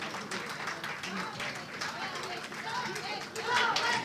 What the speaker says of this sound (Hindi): सर खड़े होकर तालियां बजा के जावेद का इस्तकबाल कीजिए.